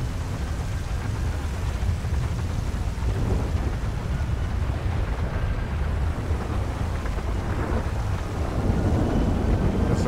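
A thunderstorm in the video game GTA 5 roars loudly and steadily with rain, wind and deep rumbling thunder, and no voices can be heard over it.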